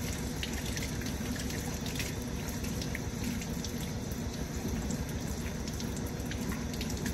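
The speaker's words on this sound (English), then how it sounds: "I'm gonna wash my hands." Hands washed under a running kitchen tap after handling raw shrimp, a steady close splashing rush of water with no pauses and no voices.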